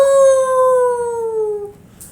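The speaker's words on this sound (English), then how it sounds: "Angua howled." A single long howl from a werewolf, read aloud from Terry Pratchett's Men at Arms, rises briefly, then slides slowly downward and fades after under two seconds, loud and close with nothing else around it.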